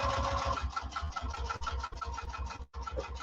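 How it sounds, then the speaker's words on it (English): A sewing machine stitches with contrasting thread in a rapid, steady mechanical rhythm, close and alone, with one brief pause near the end before resuming. "So now we're going to sew that."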